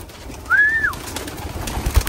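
A racing pigeon in a loft gives a single clear drawn-out coo, near and distinct over quiet background rustle.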